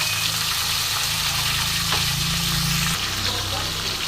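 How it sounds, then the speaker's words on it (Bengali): Yardlong beans, papaya, pumpkin and potato fry together in hot oil for a vegetable coconut curry, a loud dense continuous sizzle with a low steady hum underneath and no voices. "এবার আমি এই যে সবজিগুলো বরবটি, পেঁপে, কুমড়ো, আলু এগুলো একসঙ্গে করে আমি ভেজে নেব"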